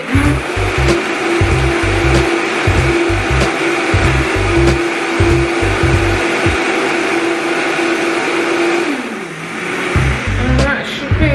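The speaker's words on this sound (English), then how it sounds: "Hear it blending away." A kitchen blender whirs steadily as it blends juice, giving a loud, continuous motor drone with a rhythmic chopping undertone, then dips briefly in pitch before spinning back up.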